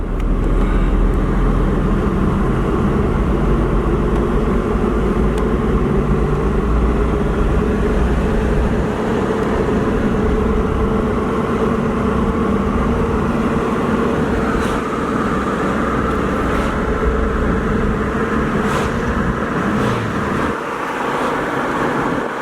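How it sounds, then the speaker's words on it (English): A 2001 Jeep Cherokee Sport 4WD drives along with a steady road and engine drone, its automatic transmission shifting through gears beneath continuous tire and wind noise. "Tranny shifts out perfect."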